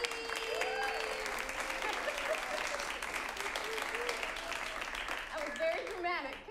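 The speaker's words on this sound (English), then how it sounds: "give a round of applause to Knute Snortum on the keys" A round of applause from the audience at an improvised comedy show, steady sustained clapping with cheers and scattered voices rising through it.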